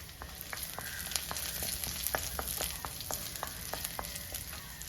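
Ingredients sauté in oil with a few curry leaves, a soft, steady frying hiss dotted with regular small crackles and pops throughout, alone with no voices.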